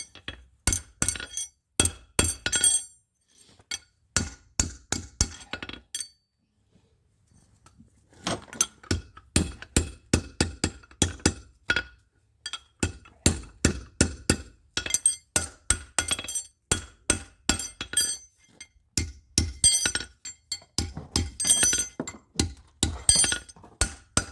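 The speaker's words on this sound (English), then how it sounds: "I like using that horn of the anvil. Just makes that a lot smoother, that roundness in those heels." A horseshoe is hammered on the horn of an anvil to round its heels, ringing metallic blows in quick bursts of rhythmic strikes, loud and close, with a short pause before the hammering resumes.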